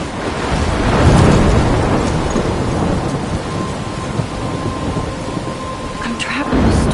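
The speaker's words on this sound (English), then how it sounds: "I'm trapped in a storm." Steady heavy rain and rumbling thunder in the Life is Strange video game, a dense continuous roar of downpour with a deep swell of thunder early on and wind-like noise throughout.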